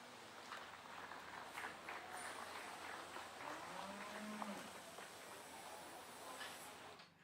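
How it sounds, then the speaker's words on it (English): A crowd at a Knox County beef cattle show in Nebraska claps for young exhibitors, with steady, moderately distant applause and faint livestock lowing underneath. "Let's give those young kids a big round of applause."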